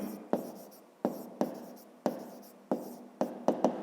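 A pen or marker writing out a grade 5 math exercise, a series of sharp scratchy strokes with short pauses between them, close and distinct, with no voice.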